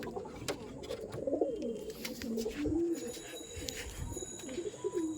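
Male pigeons coo repeatedly in a loft, soft throaty rolling calls overlapping close by, with faint rustling and a few light clicks in the background.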